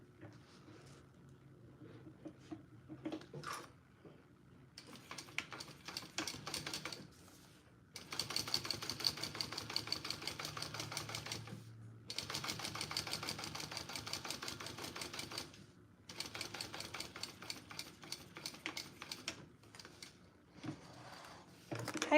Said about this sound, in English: I'm going to top stitch that.